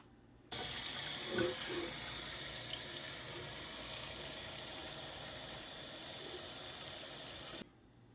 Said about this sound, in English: get a pot of water and get it to boil